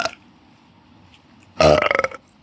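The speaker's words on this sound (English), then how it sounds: "Now I need to burp." A single loud, close burp of about half a second, rough and throaty, from a person with no one else making sound nearby, bursting out after a stretch of near silence.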